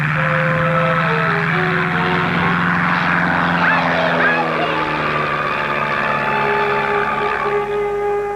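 A propeller plane's engine drones loudly and steadily nearby, its pitch sliding slowly as it runs, with people talking over it.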